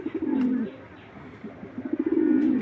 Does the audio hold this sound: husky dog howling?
no